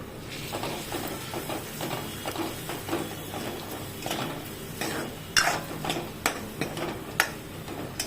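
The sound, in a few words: stirring medu vada batter with spices and chillies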